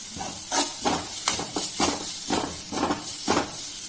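Onions fry in a pan for pav bhaji Maggi noodles, a steady sizzle and hiss broken by regular stirring scrapes, close and moderately loud.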